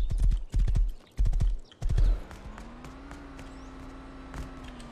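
Horse hooves clip-clopping in the Rust video game, a few heavy rhythmic thuds close by before giving way to a low droning engine-like hum with a faint background.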